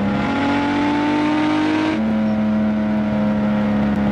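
Steady engine drone of a blue Mini Cooper driven in Ski Resort Driving Simulator, a smooth continuous hum that drops slightly in pitch partway through as if shifting gear, loud and unbroken with no talk.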